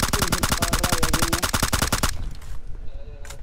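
Rapid automatic gunfire in the video game PUBG Mobile, a loud burst of evenly spaced shots for about two seconds before cutting off into quieter background game sounds.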